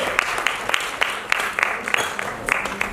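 Theatre festival audience applauding to welcome a chief guest, a steady mass of clapping with regular sharp peaks from nearby hands, fairly loud and continuous.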